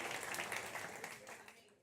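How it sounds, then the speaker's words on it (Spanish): Church congregation applauding at a Sunday service, a dense wash of clapping with a voice over it, fairly faint overall and trailing off near the end. "Hermano, estamos aplaudiendo,"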